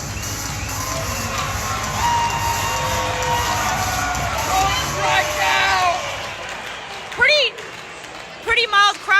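Murmuring crowd of about 15,000 at a baseball stadium during a game against Baltimore, a steady broad babble of voices with some scattered cheers and brief louder calls near the end.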